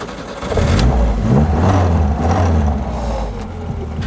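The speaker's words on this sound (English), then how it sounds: "It's always nice when an old carbureted classic fires right up in the heat of the desert" A carbureted engine in a 1962 Mercedes-Benz 190 SL catches and fires up, settling into a loud, close, low rumbling idle with a slight rise in revs.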